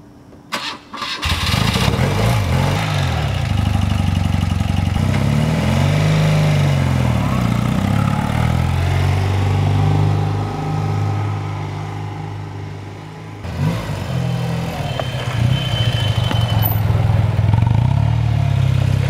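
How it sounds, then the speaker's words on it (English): A BMW R80 RT motorcycle engine cranks, catches and settles into a steady, loud idle close by, with brief revving swells and a dip in the middle. "Now it's time to take this bike out and warm it up."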